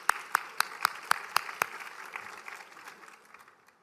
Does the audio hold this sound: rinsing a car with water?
no